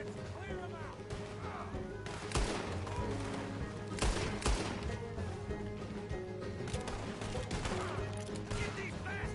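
Gunfire in a Red Dead Redemption II shootout, scattered sharp shots and bursts cracking over a continuous din, with voices talking throughout.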